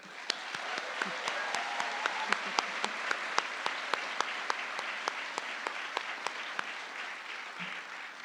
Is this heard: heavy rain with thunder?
no